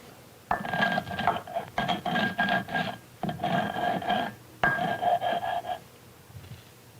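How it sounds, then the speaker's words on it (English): Dried corn kernels ground by hand between a stone mano and metate: repeated gritty rasping strokes in several bursts with short pauses, fairly close, with no talk. "The dried kernels are rubbed again and again between the mano and the metate until a fine cornmeal results."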